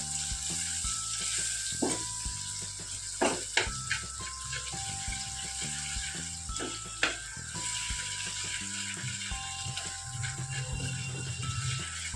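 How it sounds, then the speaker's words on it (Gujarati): Jaggery is stirred into a pan of sizzling desi broad bean (vaal) curry. The steady frying hiss runs throughout, with a few sharp spoon knocks against the pot. "ગોળને મિક્સ કરી લેવાનું"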